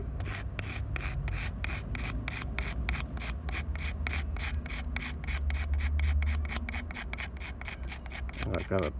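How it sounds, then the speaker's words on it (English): Hand scraping tools work on a 1970 Ford Mustang Mach 1, making fast, rhythmic rasping strokes, roughly three per second, close and even throughout. "Scraping tools."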